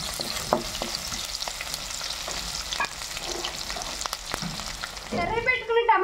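Onions sizzle in a pan after a pinch of rock salt goes in, a steady close crackle with soft stirring taps, ending in a brief scrape and clatter near the end.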